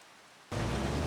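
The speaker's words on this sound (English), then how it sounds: "It is still raining." Rain in the Farming Simulator 25 farm game switches on abruptly after a half-second of quiet, becoming a loud, steady hiss of downpour.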